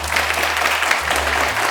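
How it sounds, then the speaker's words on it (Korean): An audience at a university lecture claps loudly and steadily to welcome a guest speaker, a dense even wash of applause with a low hum running underneath. "우리 큰 박수로 김준영 원장님 환영하겠습니다"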